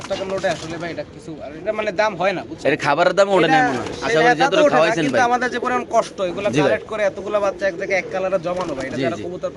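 Pigeons coo in low, throaty warbles at a pigeon farm, mixed with people talking nearby; the cooing and voices overlap throughout.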